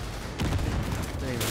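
Rapid bursts of gunfire in the video game Cyberpunk 2077, dense and continuous through a firefight, loud and close, with a voice faintly under it.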